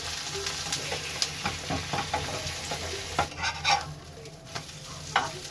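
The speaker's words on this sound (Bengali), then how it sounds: "ফ্রাই প্যানে তেল গরম হয়ে গেছে এবারে আমি ডিমটা ভেজে নেব" Egg frying in oil in a frying pan: an even sizzle runs under a series of sharp scraping and tapping strokes as a spatula works at the egg. The strokes grow louder toward the end.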